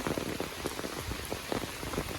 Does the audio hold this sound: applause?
no